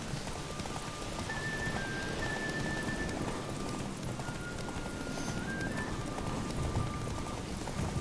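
Hooves of Roach, the horse in The Witcher 3, drum in a steady galloping clip-clop over a dense, rain-like background, with occasional faint tonal sounds.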